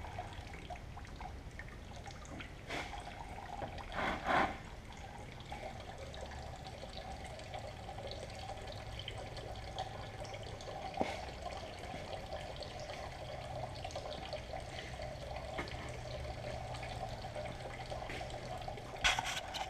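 Water drips and trickles from the radiator drain of a Ford F750 haul truck, a faint, steady patter with occasional sharper drops over low background noise.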